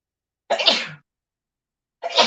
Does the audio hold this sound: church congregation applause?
no